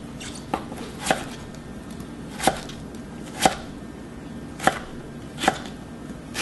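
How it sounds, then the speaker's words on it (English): A knife chops zucchini or squash into small half-inch cubes on a cutting board, about eight sharp, evenly spaced knocks, close and distinct, with no talking. "So we are going to cut this into all the cubes, really small pieces, around 1/2 inch"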